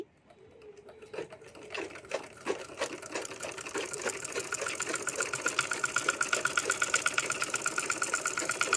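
A sewing machine stitches fabric, starting with a few slow taps and picking up into a fast, even mechanical chatter of rapid needle strokes, close and loud with no voices.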